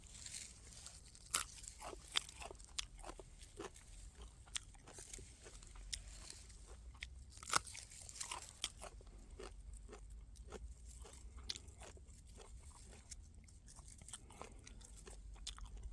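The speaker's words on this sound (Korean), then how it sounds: "끊어진 뿌리로 맛을 좀 보겠습니다" Someone chews a freshly dug raw root in midwinter, producing faint, close crunchy bites and irregular chewing crackles over quiet outdoor background.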